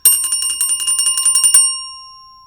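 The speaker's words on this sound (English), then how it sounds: "that ring is going to keep happening till I've touched it" A single bell struck repeatedly in a quick rolling pattern, then left ringing after the last hit, its bright metallic tone sustaining and slowly fading into silence, close and clear with no talk.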